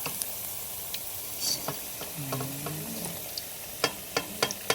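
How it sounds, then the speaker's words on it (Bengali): Chicken pakora frying in a kadai hisses and crackles softly and steadily up close, broken by sharp ticks and pops that cluster near the end, with a faint tonal hum midway. "আমাদের চিকেন পকোড়া পুরো ফাইনাল ভাজা হয়ে গেছে এবার এটাকে তুলে নেব"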